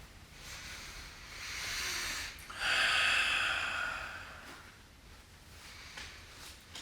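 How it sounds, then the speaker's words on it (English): Deep ujjayi breathing during a yoga bridge pose, slow audible breaths through a constricted throat, two long hissing swells rising and fading, close and moderately loud with no talk. "Some deep ujjayi breath here."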